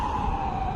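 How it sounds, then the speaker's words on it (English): An ambulance siren passes outside, a brief steady wail at moderate loudness heard through surrounding noise. "an ambulance"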